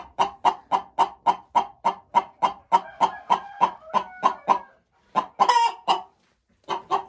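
A hen in a coop clucks in a loud, evenly spaced series of close calls, then breaks into a rising cackle before pausing and resuming.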